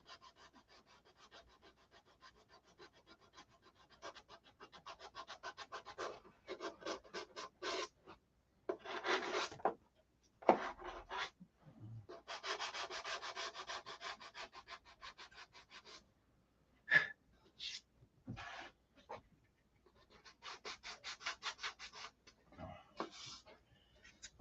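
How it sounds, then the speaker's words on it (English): Repeated rhythmic rasping strokes of hand sanding primer on a Sig Magnum, in bursts with short pauses, close and moderately quiet. "I'll finish the rest of the day sanding it out"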